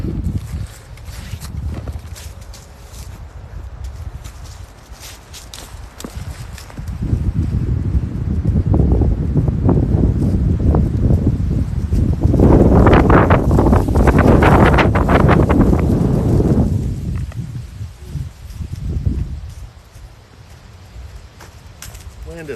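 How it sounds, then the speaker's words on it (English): Wind blows outdoors and buffets the microphone, building into a loud, rough rush for several seconds before easing off again, with faint rustling and footsteps around it. "Wind is starting to blow."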